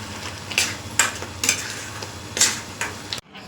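Besan pithla sizzles in a pan while a spoon scrapes and stirs it in a steady rhythm of about six strokes, close and clear, ending abruptly.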